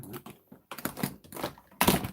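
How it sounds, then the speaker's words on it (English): A makeup foundation bottle gets knocked over on a table crowded with cosmetics, giving a short run of light clattering knocks that end in a louder clunk. "Oh, just knocked over the foundation."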